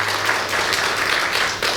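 A church congregation claps in welcome for the praise team's accompanist, producing a brief, continuous burst of applause that stays fairly loud from start to finish.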